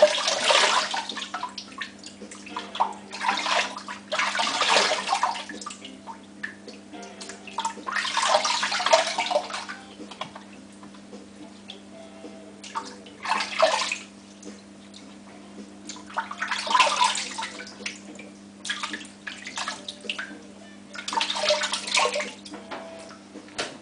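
Running tap water gives a final rinse after a shave, gushing in repeated bursts that rise and fall over a faint steady background hum.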